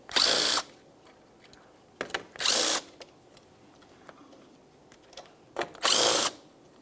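Three short, loud bursts of a power tool or impact driver loosening the grille mounting nuts on a 2006-2012 Ford Fusion, each lasting under a second with quiet pauses between, close up and with no talking.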